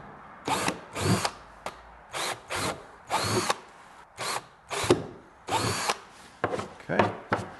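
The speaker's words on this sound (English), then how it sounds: "Super easy to drill through." A power drill bores holes in a CFMoto Z950 Sport motorcycle rear cargo box, running in short repeated bursts with brief pauses between, close and moderately loud.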